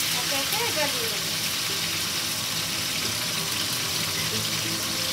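Chopped tomato dropped into hot oil gives a continuous crackling hiss of frying, a loud, even wash with faint voice-like murmurs underneath.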